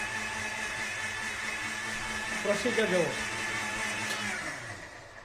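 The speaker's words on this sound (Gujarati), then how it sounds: "મિક્સરના અવાજમાં કંઈ સંભળાશે નહીં" Kitchen mixer grinder running steadily with a loud whirring drone, a brief rattling churn partway through, and a voice speaking over it.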